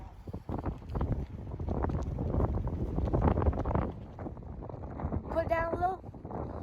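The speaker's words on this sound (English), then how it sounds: "Pretty windy and it's a little bit snowy" Gusty wind buffets the microphone at a harbor on a snowy day, a rough, rumbling roar throughout, with a voice speaking briefly near the end.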